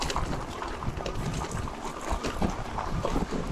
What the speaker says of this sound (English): And an insane headwind.